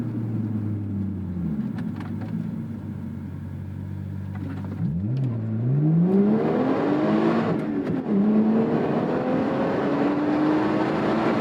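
A 2014 Lotus Evora S engine pulls hard at full throttle, its tone climbing steadily, dipping at each gear change, then climbing again through the next gear. The sound is heard from inside the cabin, loud and steady, with no talking.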